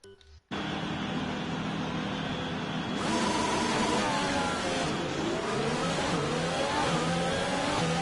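An F1 car engine in F1 2020 revs up at a practice start, a steady close engine drone that climbs in pitch with rising revs and shifting tones, continuous and loud after a brief quiet opening.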